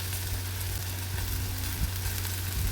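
Capsicum curry with tomatoes frying in oil in a pan, giving a continuous close sizzle with a low steady hum underneath and no talking.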